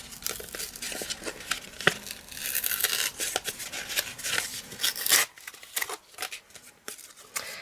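Wet paper being peeled away, a close, sustained tearing and crinkling rub with irregular rustles and scrapes, easing off into quieter sporadic crackles near the end, with no talking.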